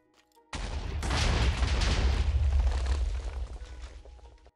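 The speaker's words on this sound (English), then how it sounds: "Now our house is going to explode." Dynamite blows up a house in Minecraft with a sudden loud blast that swells into a long, rumbling roar of explosions lasting several seconds, then slowly tails off.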